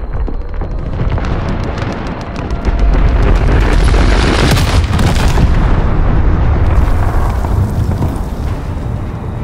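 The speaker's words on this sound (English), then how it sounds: "Enemy cruise missile incoming." Cruise missile strike in a Call of Duty video game, heavy booming explosions blending into a continuous loud roar and rumble with crackling bursts, sustained and close.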